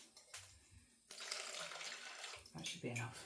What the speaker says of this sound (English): And then I'm going to pour half of this cup into all of that.